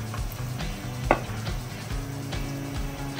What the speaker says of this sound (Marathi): हे सगळे मसाले छान आणि एकदा परतून घेऊयात.